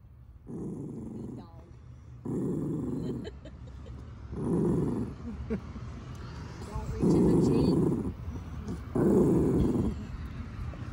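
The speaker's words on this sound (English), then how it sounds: "Got a mean dog there, Tana." A dog growls in a parking lot in a series of about five low, rumbling growls, each lasting about a second with short pauses between, fairly close and moderately loud.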